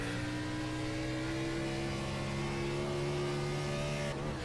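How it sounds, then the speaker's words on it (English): A race car corners at Portland International Raceway during a BRRA Cup Series round, its engine holding a steady droning pitch at moderate distance, fairly faint and without talk. "You hear how loose that race car is through that part of Sector 2."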